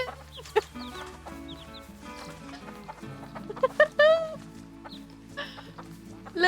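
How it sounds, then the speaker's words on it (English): Chickens cluck and squawk repeatedly while eating, a lively close chorus of overlapping calls, with a voice speaking faintly at times. "Look at all these chickens!"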